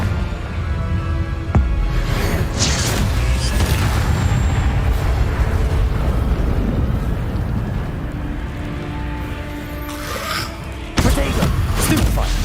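Booming spell blasts in a Harry Potter video game, loud deep thuds and crackling bursts with rumbling echoes and a sharp crack, mixed with game effects.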